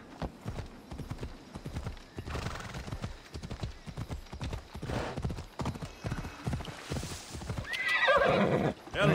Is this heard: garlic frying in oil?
no